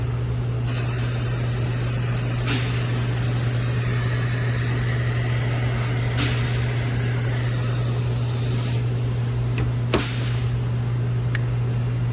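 A steady, loud spray of water hisses continuously onto a large truck part over a low mechanical hum, with a few brief knocks.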